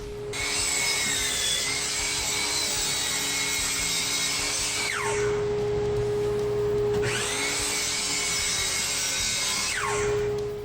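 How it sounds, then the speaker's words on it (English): A miter saw set to 30 degrees cuts through plywood twice, each pass a loud, sustained motor whine with grinding wood noise that spins down between cuts, heard close and alone. "I then set my miter saw to 30 degrees to clean up my rough jigsaw cuts."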